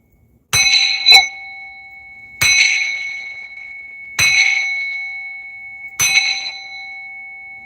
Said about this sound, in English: I'm going to ring this bell over here to remove, cleanse any negative energies